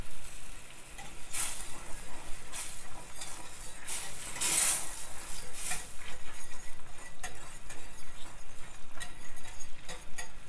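A pan sauce simmers in a pan, giving a steady soft sizzle and bubble, with a few brief metallic clinks and scrapes of a utensil near the start.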